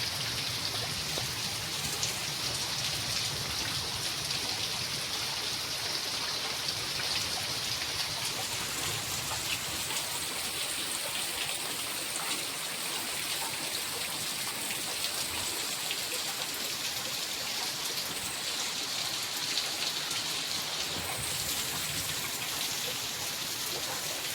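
Steady rain falls throughout, a continuous hiss of drops on surfaces with a faint trickling underneath; no voices.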